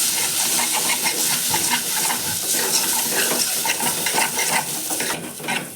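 Steady sizzling and stirring scrapes as samak rice roasts in ghee on a low flame for kheer, close and continuous, easing slightly at the end with no talking.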